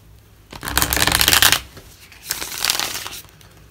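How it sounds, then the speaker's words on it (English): A deck of tarot cards is shuffled by hand close up: two bursts of rapid riffling flutter, the first longer and louder, the second shorter, with no talk. "I was just told one more shuffle."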